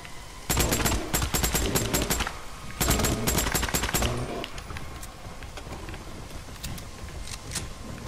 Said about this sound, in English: let's just shoot it